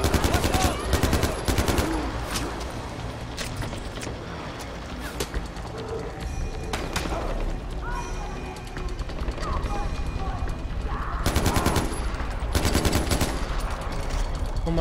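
Gunfire in the shooter game Far Cry 4, with bursts of rapid automatic shots and single loud cracks scattered across the stretch, mixed with game ambience and a voice talking at times.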